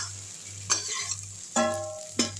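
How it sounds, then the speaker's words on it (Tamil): Okra sautés in a kadai with a little oil, a soft sizzle broken by three sharp scraping stirs of a spatula against the pan, close and unaccompanied by voices. "ஒரு 3 நிமிஷம் வதக்கினா போதும்."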